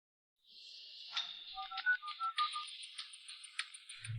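A phone call rings on with no one answering, a faint, thin electronic ringing pattern repeating on its own in otherwise quiet surroundings.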